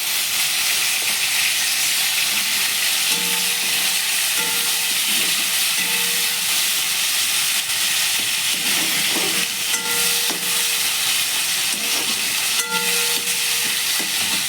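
Chopped tomatoes fry in a pan, a steady, loud sizzling hiss that carries on without a break, with faint stirring clinks now and then.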